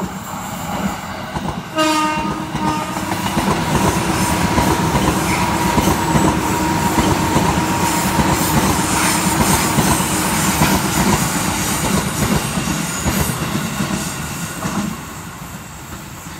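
An electric commuter train roars past close by, a horn blaring near the start, wheels clattering steadily before the rumble eases toward the end.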